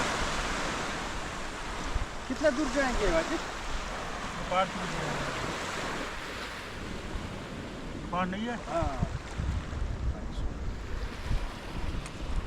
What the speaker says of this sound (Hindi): अभी जाएंगे इस समंदर में।